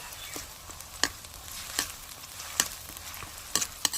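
Onions fry in hot oil for a fighter chicken sukka, giving a constant close sizzle broken by sharp spoon clacks against the pan every second or so.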